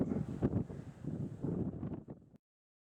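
Strong wind gusts on a hiking trail along the GR 7 in Hérault, with winds reaching 70 km/h, buffet close against the microphone in a loud, rumbling roar that surges and eases for about two seconds before cutting off abruptly.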